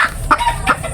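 A caught chicken lets out a few short, loud clucks in quick succession, close to the microphone over a faint background.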